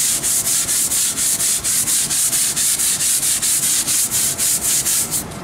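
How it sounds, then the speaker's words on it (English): A regular scrub brush scrubs film off a freshly laid brick wall in quick, steady back-and-forth strokes, a close, loud rhythmic scratching with no talking. "Old school way of doing this was we just get a regular scrub brush, wet it down the next day,"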